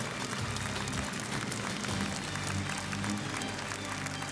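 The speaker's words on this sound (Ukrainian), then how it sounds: "А де ваші овації, шановна публіка?" Audience applause at an agricultural awards ceremony honoring the farmer of the year, a steady wash of clapping throughout, moderately distant and fairly quiet.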